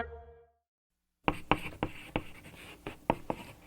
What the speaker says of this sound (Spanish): vamos a por el lápiz y el papel y vamos a redactar nuestros deseos